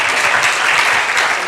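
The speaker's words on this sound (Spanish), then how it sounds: "a Javier Macho, a Jaime Rodríguez San Pedro, un aplauso para ellos" A crowd at a talk on creative failure breaks into loud, dense applause, many hands clapping at once in a continuous roar that stays close and strong for the whole stretch.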